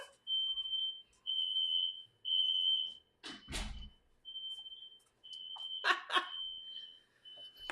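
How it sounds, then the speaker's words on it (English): Incense smoke sets off an indoor smoke alarm, which gives a series of long, loud, high-pitched piercing beeps broken by short gaps, with a couple of louder clattering noises and shuffling nearby. "My incense turned off my fire alarm. It will stop beeping in a second."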